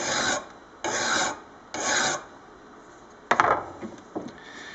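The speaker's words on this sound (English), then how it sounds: "with a mill file, I'm just going to give it a touch up to rejuvenate the edge" A mill file rasps across an edge clamped in a vise in three even, close strokes, followed by a few sharp metallic clinks and a softer scrape.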